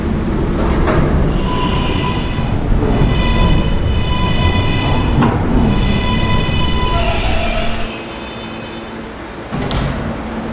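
An R143 R local subway train runs with a steady loud rumble of wheels and car noise, with tonal whines and a couple of sharp clunks, before the sound drops and a brief burst of hiss comes near the end.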